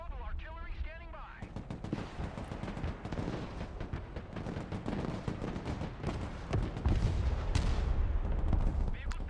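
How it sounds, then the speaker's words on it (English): Mortar and artillery fire in the war game Broken Arrow, with repeated booming shots and rumbling blasts in a dense, continuous barrage, some loud and close; a voice talks briefly under the battle noise. "There goes the mortar."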